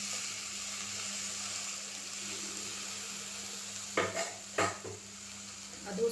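Chopped tomatoes are added to hot oil in a frying pan for a vegetable gravy: a soft low sizzle, then a few clanking stirs of a utensil against the pan near the end.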